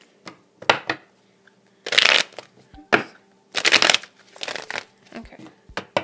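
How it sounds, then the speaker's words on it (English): Tarot cards are shuffled by hand in several short riffling bursts of crisp card flutter, close and fairly loud, separated by brief pauses and soft handling sounds. "I'm gonna shuffle one more time."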